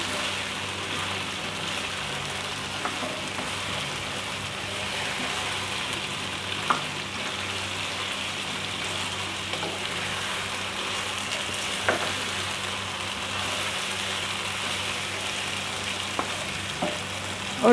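Tomatoes and seven dried plums frying in a pot for Sindhi chicken biryani, a steady close sizzle with occasional soft stirring clicks throughout.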